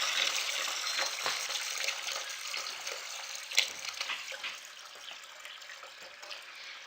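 Water drains steadily from the open bleeding valve tube of a DI can during replacement, a continuous hissing trickle, fairly faint and close, with one brief splash partway through and no talk.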